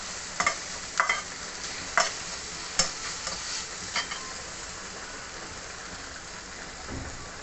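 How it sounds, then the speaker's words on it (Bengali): Onion, ginger and garlic frying in a pan, stirred with a few sharp scraping knocks early on, then a soft continuous sizzle that fades to a quiet hiss. "পেঁয়াজ, আদা, রসুন একবার একটু নাড়াচাড়া করে দিচ্ছি।"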